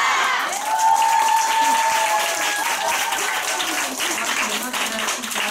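A crowd at a company meeting claps steadily and cheers, with the dense applause filling the room throughout and voices calling out over it.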